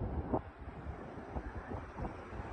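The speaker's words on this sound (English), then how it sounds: "This guy wanted to show how windy it was in New Zealand." Strong wind gusting by the ocean on a New Zealand shore, a steady close roar of wind buffeting the microphone with faint surf beneath, no voices.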